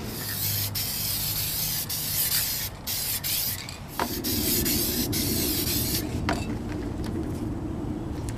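Varnish is sprayed onto paintings outdoors in a series of hissing aerosol bursts, some long and some short, with brief gaps, close to the microphone over a faint background.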